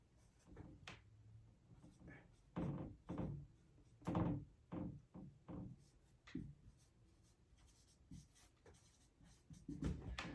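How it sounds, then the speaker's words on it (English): A marker squeaks and taps across a whiteboard in short, quiet scratchy strokes, with pauses and a soft thump or two between them. "it's kind of hard writing on this whiteboard being right-handed"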